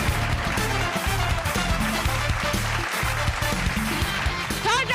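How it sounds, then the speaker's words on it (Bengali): Studio audience clapping at a Bengali game show, dense sustained applause filling the room at a loud, steady level, with music or show sounds mixed underneath. "বিশ্বজন একটা জোরে হাততালি।"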